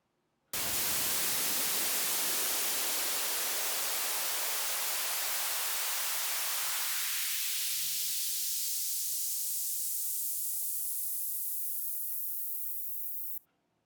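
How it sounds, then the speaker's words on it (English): A loud burst of white noise passes through a high-pass filter whose cutoff sweeps upward. The hiss starts full and wide, then slowly thins as the lows and mids drop away, leaving a bright, airy hiss before it cuts off abruptly. "This first example is a high-pass filter with white noise, and we've automated the cutoff frequency so you can hear it"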